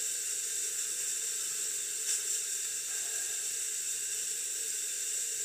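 Steam wand on a Lelit Elizabeth espresso machine running steadily, a continuous bright, dry hiss held at an even level from start to finish with no voices.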